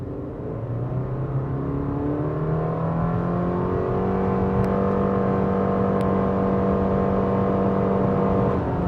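A 2026 Subaru Forester Premium accelerates hard from a standstill in sport mode, its engine note climbing steadily through the revs in a long, smooth, moderately loud pull heard from inside the cabin.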